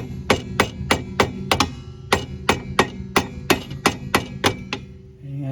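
Hammer smacking the bottom rear strut bolt on a 1991-2003 Ford Escort, about fourteen sharp metallic blows in a quick irregular rhythm, close and loud, with a pause partway through.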